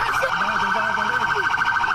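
A loud, continuous police car siren wailing in rising and falling sweeps during an arrest, with shouting voices faintly mixed in underneath.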